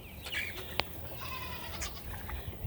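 Male goats on a mixed farm bleat over steady outdoor background, with a sharp knock partway through and a few short calls.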